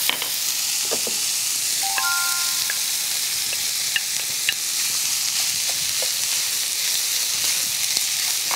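Seaweed stems and sliced onion stir-fried in a pan give a steady, close sizzling hiss, broken by occasional light scrapes and taps of a spatula.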